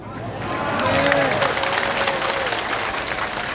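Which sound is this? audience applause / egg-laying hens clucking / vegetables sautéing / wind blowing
audience applause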